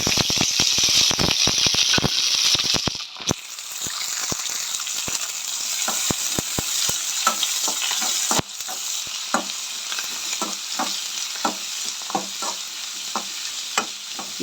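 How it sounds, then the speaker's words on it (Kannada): Onion, curry leaves and green chillies frying in hot oil for okra palya, a steady loud sizzle broken by repeated spatula stirs and scrapes against the pan, with no one speaking. "ಇದು ಗೋಲ್ಡನ್ ಬ್ರೌನ್ ಆಗೋ ರೀತಿಲಿ ನೀಟಾಗಿ ಒಂದು 2ರಿಂದ 3 ನಿಮಿಷದವರೆಗೂ ಚೆನ್ನಾಗಿ ಹುರ್ಕೋಬೇಕಾಗತ್ತೆ ಎಣ್ಣೆಯಲ್ಲಿ"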